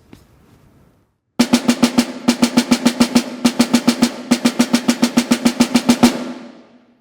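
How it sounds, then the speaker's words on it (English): Snare drum roll skeleton without buzzing: clean, evenly spaced single strokes, loud and close, played in several rhythmic groups for about five seconds, then a fading ring. "I'm going to play just the roll skeleton with no buzzing"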